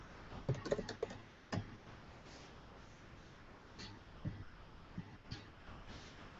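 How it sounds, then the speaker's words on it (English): Typing on a computer keyboard into an online chat: faint, scattered key taps in short irregular bursts against a steady room hiss, with no one speaking. "I'm going to type in something here."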